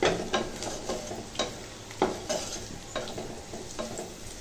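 Rohu fish with tomato frying in a pan over a weak gas flame, a steady soft sizzle broken by repeated light scraping stirs at a loose rhythm.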